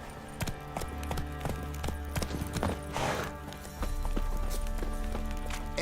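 Roach, a horse in The Witcher 3, gallops with a steady run of clip-clop hoofbeats, close and clear under a low continuous game ambience and music, with no one speaking.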